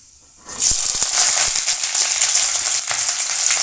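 Onions dropped into hot oil with popped fenugreek and mustard seeds for a village-style fish sambar, a sudden loud sizzle that bursts up after a brief quiet start and hisses on steadily with a few stirring knocks.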